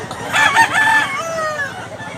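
A gamefowl rooster of Doctor Blues bloodline at a Cebu farm gives a loud, close crow with a few stuttering notes trailing into a fading drawl, over a bed of background clucking and murmur.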